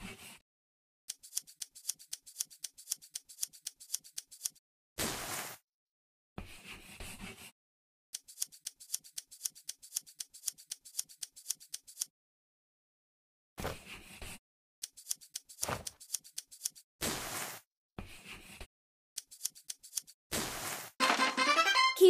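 Scissors snip through cloth in a sewing dress-up video game, coming in quick rhythmic bursts of crisp clicks separated by pauses and brief swooshing game effects.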